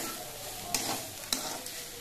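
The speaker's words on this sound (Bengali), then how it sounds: "থোড়গুলো কিন্তু ভাজা ভাজা হয়ে গেছে" Sliced banana stem frying in a pan, giving a steady, close sizzle with two sharper scraping stirs near the middle and a lighter one toward the end.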